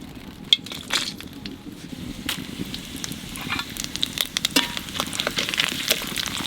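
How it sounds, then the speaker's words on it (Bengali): Whole spices crackle and sizzle in hot oil, a steady close frying hiss with scattered sharp pops and crackles throughout, no voices. "তেলের উপর দেবো কটা গোটা মশলা"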